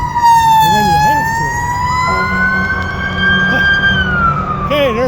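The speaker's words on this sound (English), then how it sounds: "there's fire truck number 2" A fire truck siren wails loud and close on a road in Avon, Indiana, its rising and falling tone sweeping steadily past throughout, heard from a bicycle with traffic rumble underneath.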